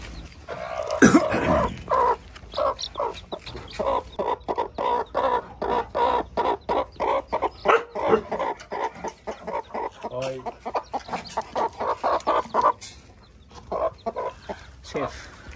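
A hen about to lay an egg clucks on a farm in a steady run of short, close, rhythmic bursts that continue for most of the clip, with a voice heard briefly near the start.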